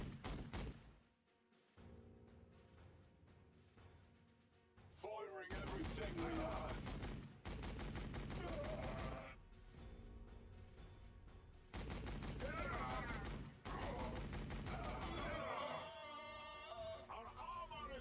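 Rapid bursts of gunfire and explosive volleys from a Warhammer 40,000: Sanctus Reach Astra Militarum skirmish battle, loud dense salvos in several waves separated by quieter gaps, with no voices.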